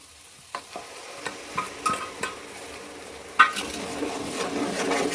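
Onion purée cooking with chili, ginger and garlic paste in a pan, quiet frying under a series of sharp spoon taps and stirring scrapes, one louder clank near the end.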